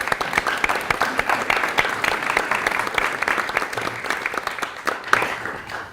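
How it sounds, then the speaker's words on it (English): A lecture audience claps warmly for an introduced guest, a sustained, even wave of applause that tapers off at the end. "Let's give him a big round of applause."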